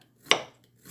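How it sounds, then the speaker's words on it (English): A kitchen knife slices through a cucumber into thin rings for a Filipino sweet-and-sour cucumber salad: one crisp close cut with a short ringing tail, then a second cut starting at the very end. "Then I will just slice it like this one."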